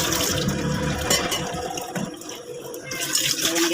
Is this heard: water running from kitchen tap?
yes